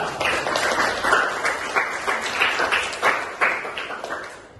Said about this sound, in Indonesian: Jadi tepuk tangan untuk kelompok 2